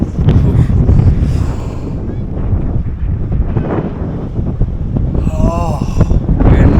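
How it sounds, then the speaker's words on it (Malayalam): Strong wind blows across a hillside during a careful descent. It makes a steady, loud low roar and buffets the microphone the whole time, with a few faint voice-like sounds near the end. "നല്ല കാറ്റുണ്ട്."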